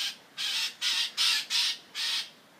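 A mockingbird gives five harsh, raspy squawks in an uneven series, each lasting about a quarter to half a second, loud and close with short gaps between them. No other sound is heard.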